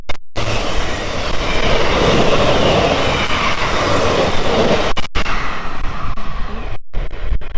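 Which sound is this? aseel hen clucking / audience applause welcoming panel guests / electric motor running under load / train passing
train passing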